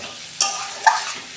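Gathi taro being sautéed in a pan, with two distinct scraping stir strokes of a spatula over a soft, steady background; close and moderately loud, no talking.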